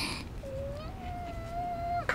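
A cat in a Japanese commercial for the game Seven Knights gives one long, drawn-out meow that rises then holds steady, heard clearly with a sharp click at its end.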